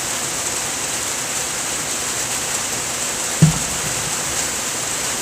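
Steady rain falls in an even, broadband hiss that runs unbroken throughout, with one brief low thump partway through and no talking.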